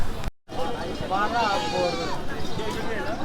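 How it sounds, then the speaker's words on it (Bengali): Goats bleat in wavering cries at a livestock market in Bangladesh, amid a busy crowd's murmur and chatter, after a brief dropout at the start. "আমরা হাটের ছাগল দেখতেছি এখনো"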